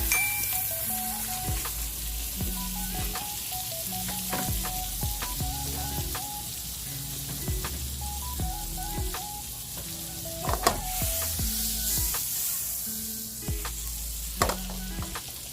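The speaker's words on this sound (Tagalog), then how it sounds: "Guys, nagpainit na tayo ng pan. So, ilalagay na natin yung ating butter." Butter melting in a heated frying pan gives a continuous bright sizzle and hiss, with scattered clicks and pan knocks throughout and gentle background music playing underneath.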